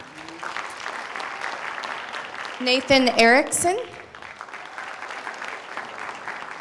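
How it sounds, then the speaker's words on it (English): An audience at a high school honors night in South Kitsap claps steadily for students as they are called up, with the clapping running under a man announcing a name over a microphone. "we can kind of just clap for them as we go"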